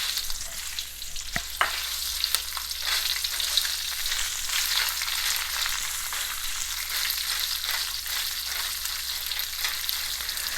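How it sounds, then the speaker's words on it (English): Chopped onions sizzle steadily in a hot pan for chickpea sundal, a continuous bright frying hiss with occasional stirring clicks, fairly quiet and close, with no talking. "now I'll add the chopped onions."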